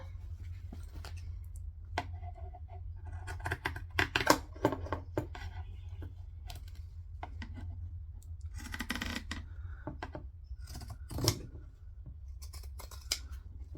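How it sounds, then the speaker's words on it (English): Quiet, close snipping of zigzag (pinking) scissors through fabric in irregular bursts, with small clicks and rustles between cuts and no talking. "Zigzag scissors again."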